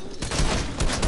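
Sniper rifle fire in the video game Fortnite comes as a loud, close burst of gunfire, with quick overlapping blasts filling the whole second.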